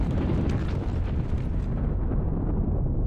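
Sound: airstrike explosions in the Sealion '40 video game

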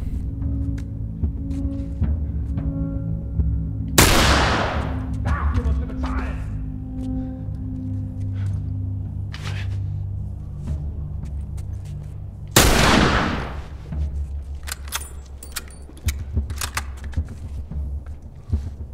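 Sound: rifle gunfire in the video game The Last of Us

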